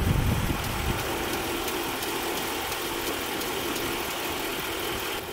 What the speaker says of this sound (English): You can literally hear the air compressor under it.